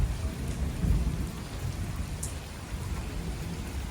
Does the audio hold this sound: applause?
no